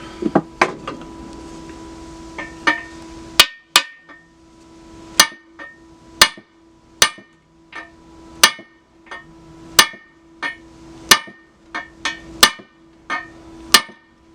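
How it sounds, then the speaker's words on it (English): Sharp metallic hammer blows on a bellhousing ring out one after another at an uneven pace, loud and close, each strike leaving a brief clang. "Bigger hammer."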